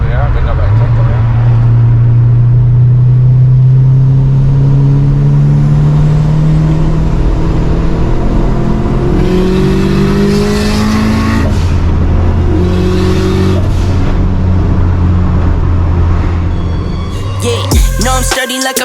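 A two-door Subaru GC8 Type R revs and accelerates hard, its loud engine note climbing through gears with rising pitch sweeps, close and dominant, with music playing underneath and a sharp shift near the end.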